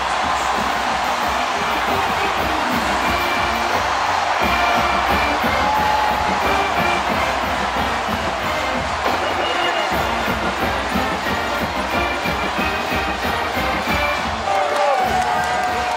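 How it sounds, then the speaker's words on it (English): A stadium crowd at a Purdue football game cheers in a sustained, dense roar, loud and continuous throughout, with a commentator's voice faintly woven in. "They've got something to cheer about."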